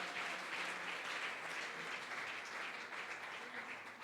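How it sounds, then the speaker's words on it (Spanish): A church congregation applauds steadily, a dense wash of many hands clapping at once, sustained and fairly faint, with no break. "ese aplauso para el Señor"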